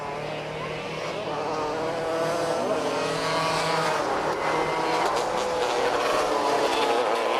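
Race cars roar around an ice race track at the 1994 CWIRA Ice Race State Championship in Dexterville, a sustained loud engine drone rising and building as cars pass, with no clear speech.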